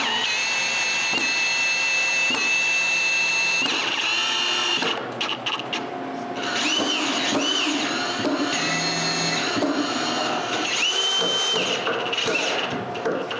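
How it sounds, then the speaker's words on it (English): Power drill driving screws to fasten three wooden step pieces together, with repeated short whirring bursts of the motor, close and loud, and the pitch rising and falling as each screw goes in. "I can screw them in place."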